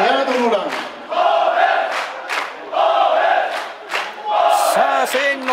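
Spectators at a Japanese American football game, the Nagano Blue Pirates against the Shizuoka Falcons at the Zenkoji Bowl, chanting and cheering loudly in rhythmic, repeated bursts near the microphone.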